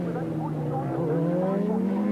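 Yamaha FZR 600 Supersport racing motorcycles at full race pace at Mallory Park, a steady high engine whine climbing in pitch as the bikes hold the throttle open, with a commentator talking over it throughout.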